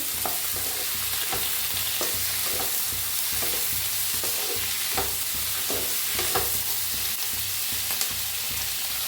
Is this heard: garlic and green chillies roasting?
yes